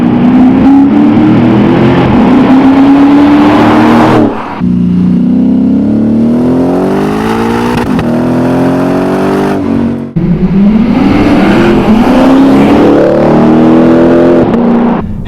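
A Lexus RC-F V8 engine revs hard toward high RPM in repeated rising pulls, loud and close, with a sharp wailing tone in each sweep and brief dips between the runs.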